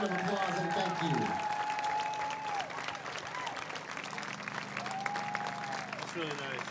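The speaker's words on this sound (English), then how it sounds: "give all of our alumni and everyone who's been a part of Indiana softball over the last 50 years a giant round of applause" A crowd applauds at the 50-year Indiana softball celebration at Andy Mohr Field, with sustained clapping filling the ballpark beneath a public-address announcer's voice.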